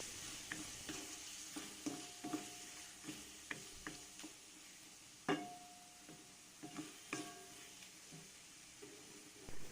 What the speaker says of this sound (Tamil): இஞ்சி பூண்டோட பச்சை வாசம் போனதுக்கப்புறமா நம்ம உப்பு, மஞ்சள் பொடி, மிளகாத்தூள் இது 3ஐயும் போட்டு நல்லாவே மிக்ஸ் பண்ணணும்